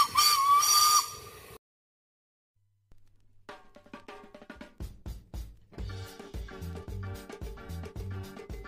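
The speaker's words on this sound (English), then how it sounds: "Here comes the locomotive to prepare for its first trip of the day." A heritage railway steam locomotive in Barbados gives a loud, sustained whistle blast with a hissing edge, then falls silent; afterward a rhythmic, music-like pattern of tones and thumps builds.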